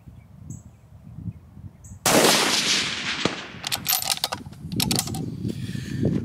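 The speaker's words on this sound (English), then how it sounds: "I'm shooting at 350 yards" A rifle fires at a steel T-post fence target 350 yards out. One sharp, loud report cuts through quiet outdoor air, followed by rattling, clicking sounds of handling.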